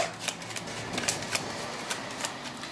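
Tarot cards being shuffled by hand, soft and fairly quiet, a continuous papery riffle with small irregular clicks and snaps scattered through it, and no speech.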